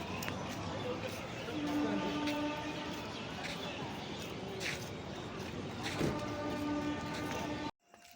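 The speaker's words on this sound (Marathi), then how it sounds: "Akola railway station" A train at Akola railway station, with rumbling rail noise, brief tonal horn or whistle notes, and station bustle beneath, fairly quiet and steady before cutting off abruptly near the end; voices can be heard in the background.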